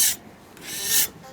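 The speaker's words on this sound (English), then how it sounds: "I'm gonna clean it with my spatula. I'm gonna scrape off all the bits of old fat." A metal spatula scrapes old fat off a hot grill in two harsh rasping strokes, close and loud, with a short pause between them and no voices.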